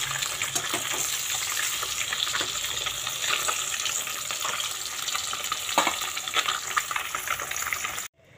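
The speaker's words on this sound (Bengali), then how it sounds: "একটু ভালো করে মাছগুলো লাল লাল করে ভেজে নেব" Pieces of katla fish fry in hot oil, a continuous loud, close sizzle and crackle with occasional stirring clinks, running steadily until it cuts off abruptly.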